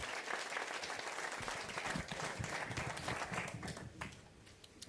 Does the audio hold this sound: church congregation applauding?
yes